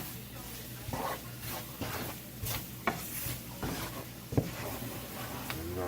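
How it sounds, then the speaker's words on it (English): Onions cooking down in a pan for a chicken, shrimp and sausage gumbo, a dense continuous sizzle broken by repeated stirring scrapes and occasional spoon taps, close and fairly loud throughout. "I'm going to add some onions in here"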